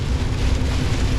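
Heavy hail pounds a vehicle travelling on the road at about 30 mph, making a dense, loud, unbroken clatter and roar.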